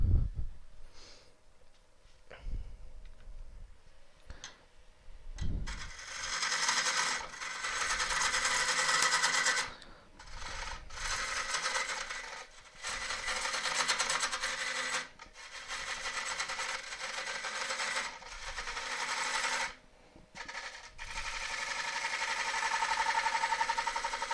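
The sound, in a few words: turning an elm burr on a wood lathe with gouge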